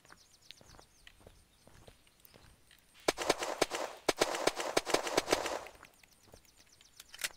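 A Russian weapon in the Unturned video game fires a quick run of sharp, evenly spaced shots for a few seconds, louder than the quieter scattered clicks before and after.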